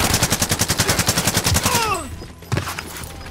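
A rapid, evenly paced stream of automatic gunfire in Call of Duty: Modern Warfare, loud and close, stops abruptly and is followed by a brief whizzing effect and one more single shot.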